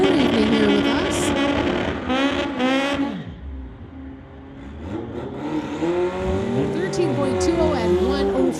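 A 2014 VW Beetle and a 1971 VW Beetle run a street-legal drag race, engines revving in rising and falling sweeps before and after a brief lull, while an announcer talks over them.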